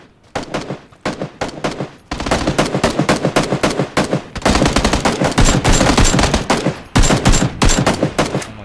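Battle royale video game gunfire, dense bursts of automatic rifle shots and rapid single shots, loud and close, nearly continuous with brief gaps and no talking over it.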